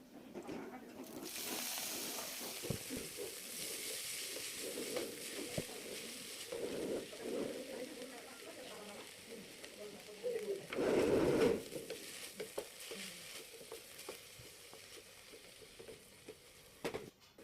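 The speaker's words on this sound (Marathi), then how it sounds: "जिरं आणि लसूण घालून स्वच्छ धुतलेली आणि बारीक बारीक अशी चिरलेली मेथी घालून त्याला 5 मिनिट शिजू देऊया" Chopped fenugreek leaves cook in a pan with cumin and garlic, giving a steady soft sizzle and hiss with light stirring patter, briefly louder near the end, with no talk over it.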